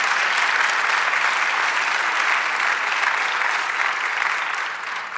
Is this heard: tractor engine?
no